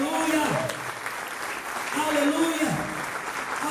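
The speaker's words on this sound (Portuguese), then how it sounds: "Aplauda o Senhor." A church congregation claps during a worship service while a voice calls out over the applause, the steady crowd clapping running beneath two stretches of loud sung or shouted speech.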